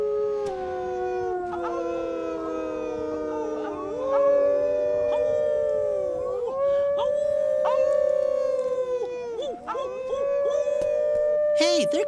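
Several people, including children, imitating wolf howls together, overlapping long rising and falling howls sustained and loud throughout, voices layered in a chorus.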